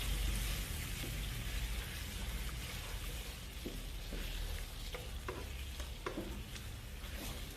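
Coconut milk stirred into curry paste frying in oil for a Thai beef and eggplant curry, a steady close sizzle with soft spoon scrapes and stirring clicks scattered through it, no voices.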